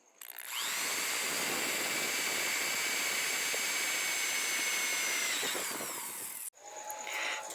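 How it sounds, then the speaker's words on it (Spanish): A power drill bores holes through metal stock for a homemade metal tripod, a loud steady whine running for about six seconds before stopping abruptly, followed by quieter workshop sounds. "vamos a perforar tanto este lado como el otro, el que está opuesto a este."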